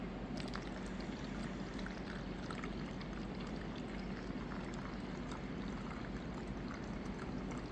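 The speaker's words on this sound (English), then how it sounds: "We're going to slowly decant this off into a temporary stock pot." Settled liquid from a gold recovery process, made from RAM fingers, is poured slowly into a temporary stock pot: a soft, continuous trickling stream with faint splashes, steady and quiet, with no talking.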